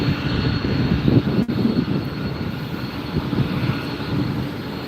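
A Delta airliner taxis at LAX, turning and lining up for takeoff. Its engines give a steady, fairly loud roar with a broad rumble, heard alone with no voices.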